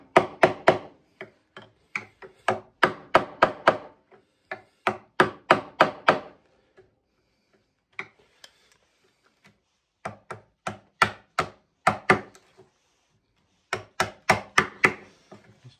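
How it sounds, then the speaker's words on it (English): Chisel struck into a mahogany dovetail block in a guitar body, breaking the wood fibers: close, sharp wooden knocks in quick bursts of four to six, separated by short pauses. "Just chip away like that, break the fibers."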